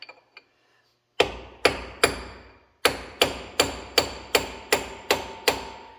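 Hammer strikes on a soft brass punch to loosen a nut on a Fiat Allis FR12 loader, ringing metallic blows, three spaced hits then a steady run of eight evenly timed whacks, loud and close after a few faint taps.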